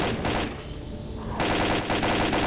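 Rapid automatic fire from the shooter Stalker Call of Pripyat crackles close and loud in quick bursts, drops away for about a second, then returns in a fast rhythmic volley.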